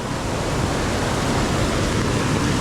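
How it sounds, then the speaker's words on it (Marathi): Heavy monsoon downpour over a swollen, flooding river in Konkan, a steady, loud broadband roar of rushing water and rain with no pauses, filling the whole stretch evenly without any voices. "तुफान पाऊस पडतो आहे आज कोकणामध्ये"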